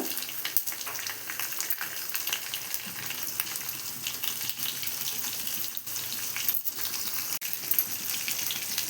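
Green chilies hit hot oil in a kadai, giving a steady close crackling sizzle with small sharp pops scattered through it, no voices.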